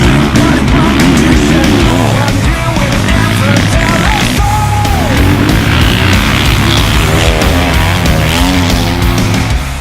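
2018 450cc motocross dirt bikes racing, a loud, continuous engine roar with rising and falling revs that fills the whole span, dense and close with no pauses.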